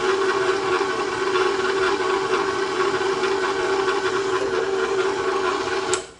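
An electric stand mixer with a paddle churns sticky peanut butter dog biscuit dough, giving a steady, loud motor whine with a hissy edge that runs unbroken and then cuts off abruptly near the end.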